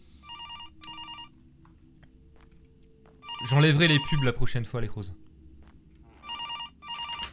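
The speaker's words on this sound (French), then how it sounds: "Téléphone." A telephone rings in a haunted cemetery video game with repeated bursts of electronic trills near the start and again at the end, while someone speaks over the quieter middle.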